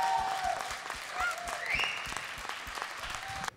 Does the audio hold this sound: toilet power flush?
no